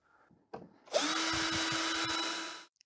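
A power drill whirs steadily for about two seconds, backing screws out around the edges of an LG 37-inch LCD LED TV, with a few faint clicks of handling just before it starts.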